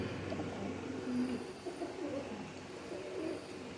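Rampuri pigeons cooing softly at a pigeon seller's loft, a few low, muffled coos over a steady background hum.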